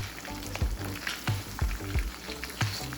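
Whole spices fry in a pan with lamb and caramelized onions, a continuous close sizzle broken by regular thumps and scrapes of a spoon mixing every half second or so.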